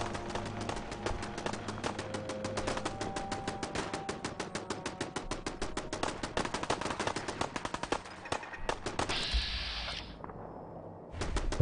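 Rapid bursts of automatic gunfire fill a Fallout 4 firefight, dense and loud shot after shot for most of the stretch, then thinning out as a brief hissing blast closes it.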